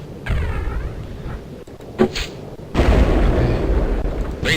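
Artillery fire in the Spellcross strategy game lands as deep, rumbling booms with a sharp crack in the middle, followed by a loud sustained blast and roar, close and heavy.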